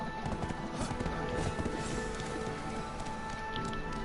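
Horse hooves clip-clop in a video game, a quick rhythmic patter of steps heard steadily over a faint background of game ambience.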